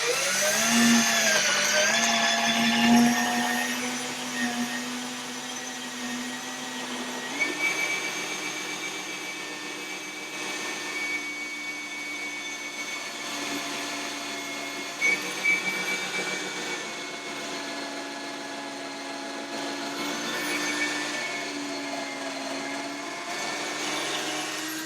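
A power drill boring into sappy wood while building a raised pet feeder, a sustained whining motor that rises, dips and strains under load for about twenty-five seconds, close and steady.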